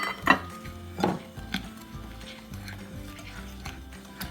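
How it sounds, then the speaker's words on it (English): Sugar and egg yolks mixed together for pastry cream, with soft rhythmic scraping and tapping of a utensil against a bowl, a couple of sharper clinks early on, quiet and close. "And you want to mix until it's a pale yellow"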